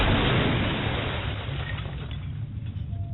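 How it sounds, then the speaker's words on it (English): Weapon fire from a robot ship striking an enemy vessel in an animated space battle, a loud sustained rumbling blast that starts at full strength and slowly fades over a few seconds, with no talk. "Returning fire."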